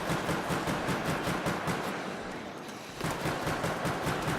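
Rapid, repeated .45 pistol shots crack out in a video game, a steady stream of fairly quiet bursts with a brief lull near the middle before firing resumes.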